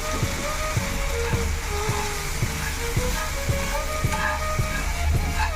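Ragi flour stirred with water in a pan, with regular soft scraping strokes about every half second over a steady low hiss and hum, close and moderate in level.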